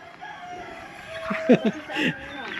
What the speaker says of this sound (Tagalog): Naram sa akong cellphone ng manok.